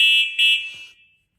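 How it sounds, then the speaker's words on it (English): Horn on a Nakto F2 fat tire electric bike, a loud steady electronic tone sounding twice in quick succession with a brief dip between, then fading out after about a second. "we do have a horn, and the horn sounds pretty good. Actually, it's pretty loud too"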